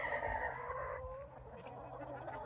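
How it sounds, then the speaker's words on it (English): Backyard homestead chickens let loose on an Indiana farm give drawn-out warning calls after spotting a bird overhead, a wavering alarm cry rising then fading against faint outdoor background. "a couple of them keep setting off alert noises"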